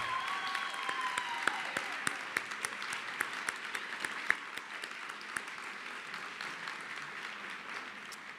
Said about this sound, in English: you can give her an applause if you want